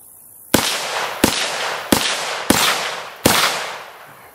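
A CMMG Mk-W Anvil .458 SOCOM AR-15 rifle firing 140 grain Polycase rounds: five loud, close, sharp shots at a steady pace, each with a brief ringing decay and no talking.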